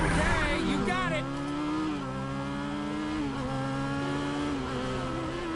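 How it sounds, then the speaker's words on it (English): Motorcycle engine in the Final Fantasy VII Remake video game revving up and holding a steady, rising drone, the pitch wavering as the throttle shifts, with game music and voices underneath. "Crank that throttle."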